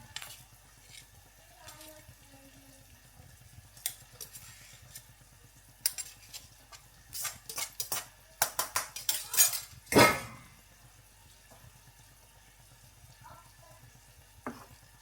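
Pasta stirred with cheese and white sauce in a pan, with a low bubbling simmer under intermittent spoon scrapes and knocks, a cluster of busy clanks and one loud metallic clatter midway.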